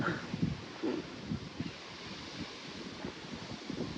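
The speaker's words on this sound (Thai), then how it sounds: "ลมพัด" Wind blows across a concrete platform by the water, making a steady low rumble of microphone buffeting with faint rustling throughout.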